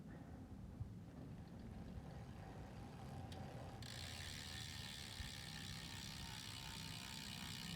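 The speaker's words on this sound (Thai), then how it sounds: "อันนี้เดี๋ยวฟังเสียงโม่กันลั่นๆเลย" Pinelli Z9 bicycle freewheel hub ratcheting with a steady, fast, continuous clicking, close and fairly quiet, with a brighter whirring edge in the second half and no talk.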